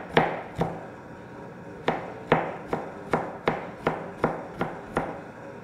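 Onions chopped with a knife on a board, a series of about a dozen sharp, close knocks in an uneven rhythm, loud and clear with no talking.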